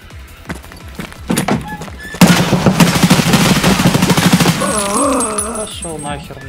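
A rapid burst of automatic gunfire from an M4A1 in Escape from Tarkov, loud and close for a couple of seconds before giving way to softer game sounds, with someone speaking around it.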